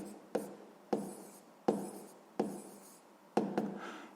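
Handwriting during a sixth-grade math lesson: a pen or chalk tapping and scratching in quick strokes, about six separate bursts of writing heard close and clear, with no voices.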